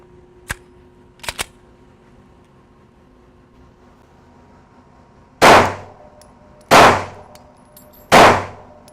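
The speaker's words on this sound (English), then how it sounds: "first gun we're going to start with is the Polymer 80 9mm. It's a full metal jacket, 115 grain." Three loud, sharp gunshots from a Polymer 80 9mm pistol firing 115 grain full metal jacket rounds, evenly spaced about 1.4 seconds apart, preceded by a few faint metallic clicks in an otherwise quiet setting.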